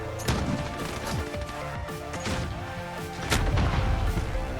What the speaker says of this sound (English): I just got hit with C4 and the grenade.